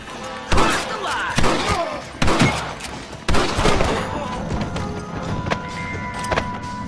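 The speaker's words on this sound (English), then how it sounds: "Not a bad shot, Mr. Marston." Gunfire in the Western video game Red Dead Redemption: four loud, close blasts spaced about a second apart, each with a ringing tail, followed by a quieter stretch of background noise.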